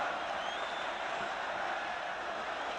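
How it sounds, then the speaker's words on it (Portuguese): A large crowd applauding deputy Mário Juruna at a political rally, a steady wash of clapping and crowd noise heard at a distance with no clear breaks. "Foi tão aplaudido que teve de pedir ao povo para fazer silêncio"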